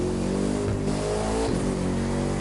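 A Bugatti Divo's engine drones loudly and steadily in the racing game The Crew 2, a dense sustained roar with slight pitch shifts as the car cruises, no speech over it.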